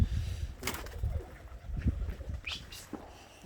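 Pigeons coo and call inside a coop on a snowy day, a few soft low coos mixed with brief chirps and light rustling, fairly close and quiet.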